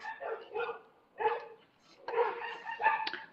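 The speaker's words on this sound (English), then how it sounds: "Most dogs, like the one barking, is always outside." A dog that is kept outside barks in several short, fairly close bursts with brief pauses between them.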